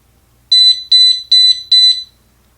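Four identical electronic beeping bursts from a skydiving altimeter alarm in a steady rhythm, each about a third of a second long, loud and clear against silence.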